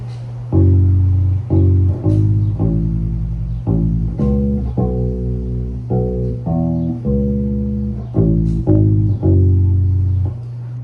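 Bass guitar plays a repeating song riff for a girls' rock lesson, steady plucked low notes in a continuous line throughout, loud and close with no talking.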